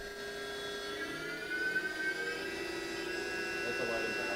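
A 2005 Haas Super Mini Mill spindle spins up toward 11,000 RPM with a steady, high whine and layered tonal hum, sustained and fairly loud throughout.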